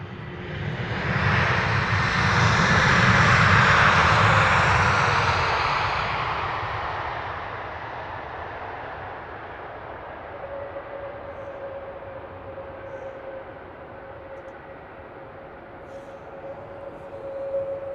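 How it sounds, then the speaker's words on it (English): An airliner lands at London Luton Airport with only light thrust reverser use, a broad roar swelling and fading over several seconds, then a faint distant engine whine lingering alone. "That one quite mellow, not a lot of reverser at all."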